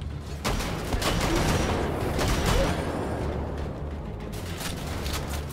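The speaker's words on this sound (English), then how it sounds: "That's a shotgun." Shotgun fire in the World War II shooter Wolfenstein: The Old Blood, a few sharp reports amid a continuous loud wash of game noise and clatter, with no clear speech.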